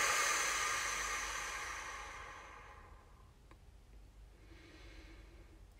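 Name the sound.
exhaling breath during a relaxation exercise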